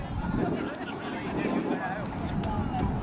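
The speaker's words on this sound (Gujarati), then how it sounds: "પવનનું જોર વધ્યું છે ભાઈ." Strong wind blows across an outdoor cricket ground, buffeting the microphone with a continuous, fairly loud roar that swells and eases slightly.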